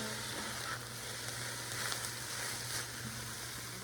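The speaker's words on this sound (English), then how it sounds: "let's add the 1 pound of ground beef. Break it up. Brown it up really well." A pound of ground beef browns in a pan, giving a faint, steady frying hiss with soft crackle and occasional stirring scrapes, with a low hum underneath.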